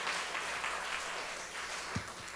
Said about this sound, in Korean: 우리 한번 박수 한번 쳐줄까요?